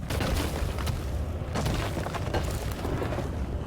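Deep Rock Galactic wall deposits burst in a loud, dense rumbling explosion, a continuous booming roar with crackling debris filling the whole span.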